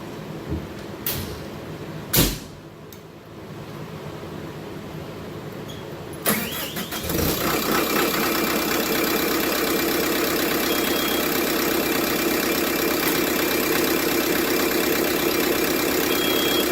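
An ASV RT120 compact track loader's engine is cranked and catches after a few clunks and knocks, then settles into a loud, steady, close idle that runs alone to the end.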